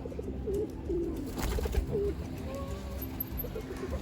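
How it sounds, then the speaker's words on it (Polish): Pigeons coo several times in a city setting used to people, soft repeated calls close by under background street noise and occasional voices. "a te gołębie też tak się do ludzi przyzwyczaiły"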